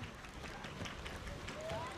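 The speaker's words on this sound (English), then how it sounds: "Hear some clapping from Spanish supporters." Spanish supporters clapping at a women's canoe polo match, scattered applause in a large venue heard beneath a commentator's voice, fairly faint against the crowd's ambient hum.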